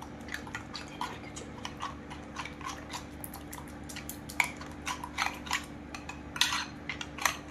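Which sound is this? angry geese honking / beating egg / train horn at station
beating egg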